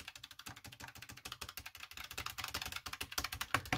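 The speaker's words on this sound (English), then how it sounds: "But it sounds clickety-clackety anyway, which is what I wanted it for" Clicky vintage Dell AT102W mechanical keyboard with black micro switches being typed on, rapid irregular clatter of sharp key clicks, close and fairly quiet, with no voices.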